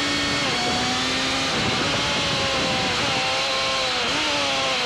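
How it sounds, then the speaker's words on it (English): A 1992 sport motorcycle, a Suzuki GSX-R1100 or first-generation Honda Fireblade, ridden hard through second-gear corners; a loud, high engine wail rises and falls through gear changes and throttle swings, close and continuous. "picks the bike up, throws it left, and down the hill we go to Mansfield Corner, which is another second gear turn"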